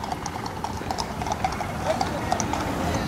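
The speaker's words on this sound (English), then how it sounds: "Sounds like there's a lot of horses in here right now." Racing horses' hooves clip-clop at an equine swimming pool facility in Dubai, giving a steady run of light taps over a dense indoor background murmur.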